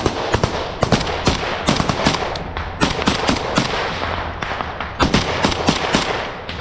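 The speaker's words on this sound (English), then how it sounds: "The Russian position is identified, and the firefight begins." Gunfire during a firefight between Ukrainian troops and a Russian position rings out as dense, rapid volleys of sharp cracks and bursts throughout, loud and close, with no speech.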